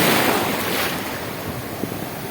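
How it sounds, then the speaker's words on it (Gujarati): Big, rough sea waves roll near a fishing boat close to shore, a loud, steady roar of surf and wind noise with no voices. "તો મિત્રો હવે તમને મોજાનું રૂપ"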